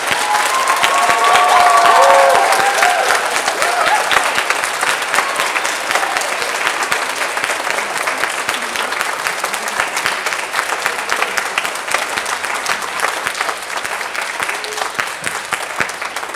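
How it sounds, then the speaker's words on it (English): A concert audience at a Hendrix College choir spring concert gives long, loud, sustained applause for graduating choir seniors, a dense wash of clapping with some crowd noise and cheering throughout. "let's give a nice round of applause to these seniors for their contributions"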